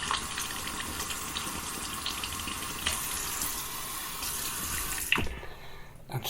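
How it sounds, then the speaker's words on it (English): Tap water running steadily into a sink, warming up for shaving soap, a constant close rushing hiss that cuts off abruptly near the end. "I'm going to warm up some water."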